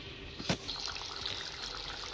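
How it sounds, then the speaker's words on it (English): Water poured from a glass into a pot of mango mutton curry, a steady close liquid splash and trickle lasting about two seconds with a brief stronger gush near the start. "Now add 1 glass of water and let it boil till the mutton is cooked."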